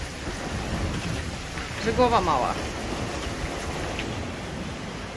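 Wind and rain outdoors on a blustery, wet day, a steady broadband rush of gusts and rainfall throughout, with a brief voice speaking over it midway.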